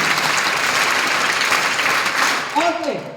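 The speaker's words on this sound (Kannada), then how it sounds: "ಚಪ್ಪಾಳೆ ಹೊಡಿಬೋದಲ್ಲ ಟೀಚರ್ಸ್ಗಳಿಗೆ?" An audience claps for its teachers in a dense, even round of applause that starts to fade near the end as a voice cuts in.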